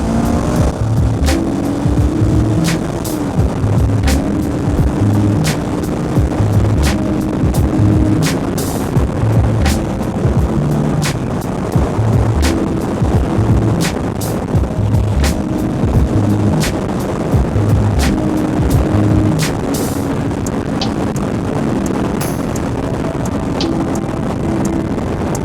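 A motorcycle cruises along a highway, its engine droning under heavy buffeting wind noise on the microphone, loud and continuous with no talking.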